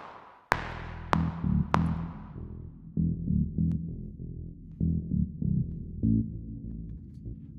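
On-beat bass doubled with an offbeat bass in a light-tension film cue: a few sharp downbeat hits open, then a low pulsing pattern alternates between beats with a throbbing, off-kilter rhythm, music only.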